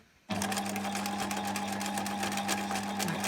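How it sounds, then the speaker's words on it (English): A sewing machine stitches round the seam of a fabric basket, guided along the presser foot edge; a steady, loud motor whir starts abruptly after a brief quiet moment and runs continuously without talk. "So I'm just going to sew round"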